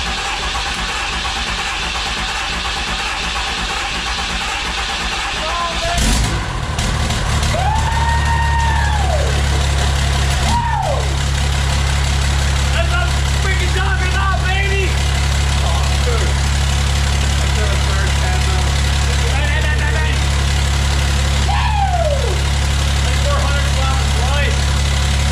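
A fourth-generation truck engine fitted with a 5-inch exhaust and stack cranks and fires, then settles into a loud, deep, steady idle with a few revs, while people talk over it.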